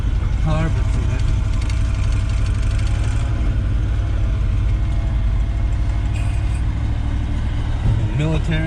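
A 1973 Ford F-250 engine runs after a cold start in snow, a steady close rumble with uneven, lumpy revving as it struggles to hold idle; someone speaks briefly over it.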